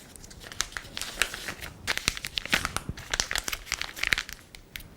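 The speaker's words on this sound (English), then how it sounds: "Place the first section of our coupler in." A plastic piping bag crinkles and crackles in close, busy bursts as a coupler is pushed into its cut tip while preparing buttercream for cake decorating.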